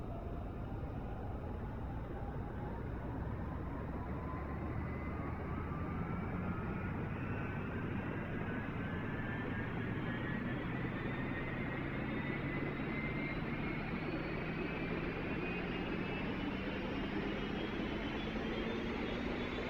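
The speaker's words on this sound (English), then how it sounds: "We'll get our engine started." UH-1 Huey helicopter turbine spooling up in the DCS flight simulator, a steady whine climbing slowly in pitch over a constant rumble, continuous and fairly quiet with no talking.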